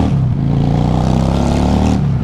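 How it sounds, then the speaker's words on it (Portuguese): A Honda Shadow motorcycle's carbureted engine revs loudly up close, a thick, throaty rumble with a steady pulsing drone that holds strong, then eases briefly near the end. "ronquinha de moto carburada é sensacional, cara"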